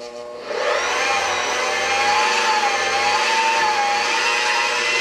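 A machine fitted with a cutter switches on after a brief moment and settles into a loud, steady, whining motor drone that holds evenly to the end.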